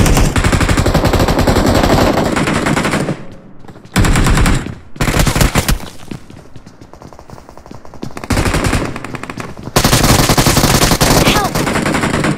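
Loud close automatic fire from an MK12 rifle in the mobile shooter BGMI, long rattling bursts with brief gaps and a quieter stretch mid-way, with some talk mixed in.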